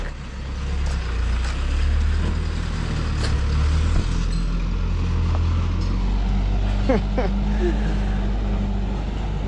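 A tipper truck's engine gives a steady, heavy low rumble close by, holding constant for the whole stretch with faint background noise on top.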